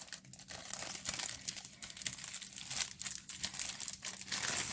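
Crinkling plastic packaging being torn open around a pack of eight A5 foam sheets in different colours, a steady close rustle and crackle running throughout with brief tearing bursts, no talking.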